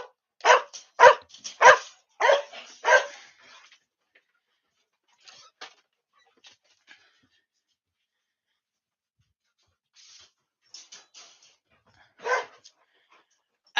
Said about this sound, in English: See, now they're both gonna bark.